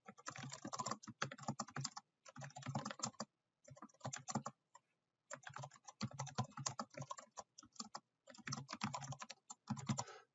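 Typing a question on a computer keyboard, quick bursts of close, crisp key clicks in runs separated by short pauses, quiet and alone with no talking.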